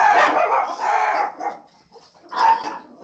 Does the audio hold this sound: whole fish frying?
no